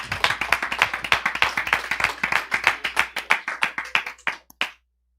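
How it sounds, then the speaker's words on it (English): Audience at an investor class gives a round of applause: crisp, fairly close individual claps from a small group, quick and uneven, thinning out to a few last scattered claps before silence. "Round of applause for Phil Falcone."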